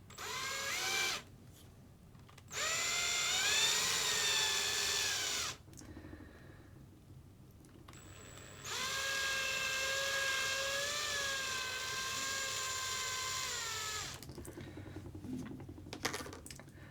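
A power drill with a sharp bit whines in several bursts of a few seconds each while drilling holes in a Kamtec Hot Hatch rolling chassis kit. Its pitch wavers as it bites into material, with quiet pauses between bursts.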